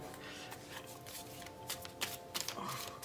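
Tarot cards shuffled and drawn by hand, a run of soft papery riffles and slaps with a few sharper flicks near the end, close and moderately quiet.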